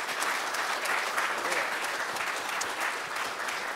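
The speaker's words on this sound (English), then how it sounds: "Can I give a round of applause for them?" A church congregation claps in sustained applause during a live-streamed service, a steady, dense wash of handclaps filling the room without a break.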